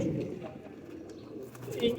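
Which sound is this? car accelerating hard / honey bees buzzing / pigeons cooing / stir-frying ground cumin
pigeons cooing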